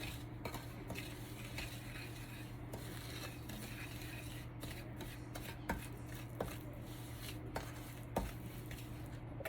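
Anisette cookie dough being mixed in a bowl for Italian cookies: a steady soft stirring scrape runs throughout, with light clinks and taps of the utensil against the bowl at irregular moments, close and fairly quiet.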